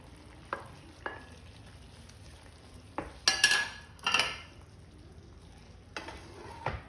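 Paneer added to a kadai gravy gives a quiet simmering sizzle, broken by several sharp metallic clinks and scrapes of a spoon against the pan as it is stirred.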